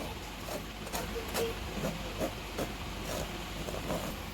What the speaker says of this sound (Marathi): आपण हे सगळं चाळून घेऊया